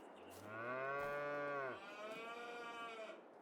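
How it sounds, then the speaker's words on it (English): A cow moos in the Farming Simulator 22 video game, one long, loud lowing call that rises, then shifts into a softer trailing tone before ending. "Let's quickly go down and check on the cows."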